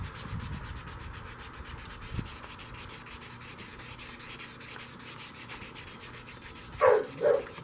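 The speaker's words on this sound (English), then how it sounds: "now we're still sanding and still getting along" Steady, even scraping of abrasive sanding a metal blade, continuous and close, with a brief louder rustle near the end.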